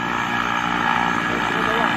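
A skydiving plane's engine roars during takeoff, a loud, continuous drone with a steady propeller hum heard close up from inside the aircraft, with no speech over it.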